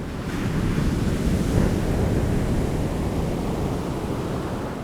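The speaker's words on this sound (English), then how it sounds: "A gale was blowing, with intermittent rain showers lashing down and fierce rolling waves crashing on the rocks near the house." Gale-driven ocean waves crash against shoreline rocks on an island, a loud, continuous roar of surf with heavy wind buffeting the microphone and no voices.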